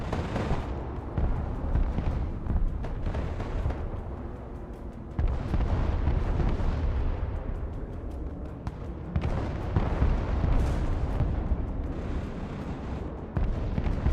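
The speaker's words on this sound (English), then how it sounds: "MLRS ready. Send fire mission." MLRS rocket artillery fires in the Broken Arrow war game as a continuous barrage of deep booms, roaring launches and crackling bursts piling over one another, loud and dense throughout.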